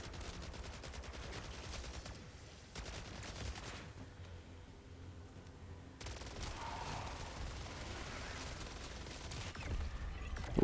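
Gunfire in MW3 Zombies, Elder Dark Aether, comes as rapid bursts of automatic shots at moderate loudness, broken by a quiet pause in the middle before the firing resumes.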